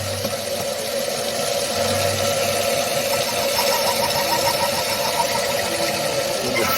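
A half-inch reamer cuts through the cylinder bore of a model steam engine on a running machine tool, giving a steady, close, loud mechanical whir and hum with a faint rhythmic chatter throughout, and no talking.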